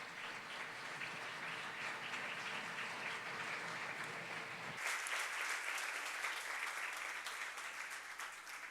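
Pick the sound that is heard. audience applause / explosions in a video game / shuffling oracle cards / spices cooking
audience applause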